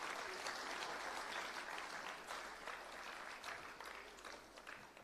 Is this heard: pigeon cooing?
no